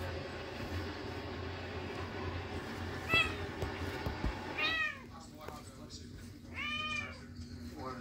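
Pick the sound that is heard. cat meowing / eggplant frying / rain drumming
cat meowing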